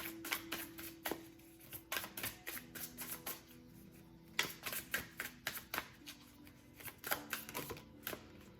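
Tarot cards are riffled and shuffled, then drawn one by one, giving a close, quiet run of crisp clicks and papery flicks in uneven bursts with short pauses between, and no talking.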